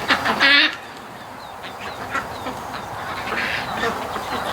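Ducks being raised for charity quack outdoors near a truck, a loud burst of calls up front and then fainter, scattered quacks over steady background noise.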